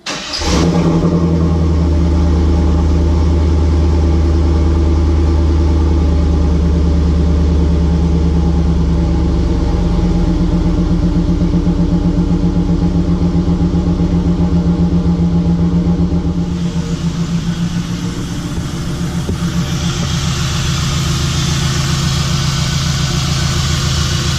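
A repaired car engine starts and settles into a steady, loud idle with a low, even rumble and a slight shift in tone partway through.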